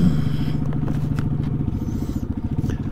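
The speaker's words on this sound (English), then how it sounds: "Joe's got his bike fired up" A trail motorbike engine runs close by with a rapid, uneven popping putter that pulses steadily for the whole moment, with no one speaking.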